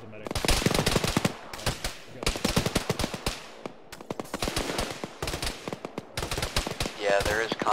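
Machine-gun fire rattles in repeated loud bursts with short pauses in a ShackTac military video game, and voices sound faintly in between.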